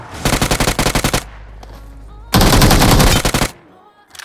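Rapid automatic gunfire in BGMI (PUBG Mobile) plays as two loud bursts of close shots, a short quiet gap between them with faint game sounds.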